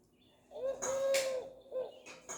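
A toy-like electronic wild pigeon call from a children's sound book plays in two short bursts with a gap, fairly close and clear, with no talking.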